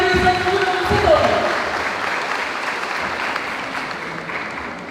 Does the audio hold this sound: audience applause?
yes